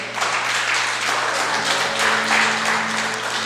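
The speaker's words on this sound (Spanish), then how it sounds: "vamos a recibir con un fuerte aplauso a Eddie." A church congregation applauds a leader called to the stage, steady broadband clapping filling the hall for several seconds at a consistent level, with no voices over it.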